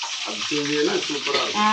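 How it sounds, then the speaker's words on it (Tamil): Steady hiss of fish frying in oil over the whole moment, with a voice speaking on top of the sizzle. "இனிமேல் அப்படி நான் பொரிச்சுக்கிறேன்."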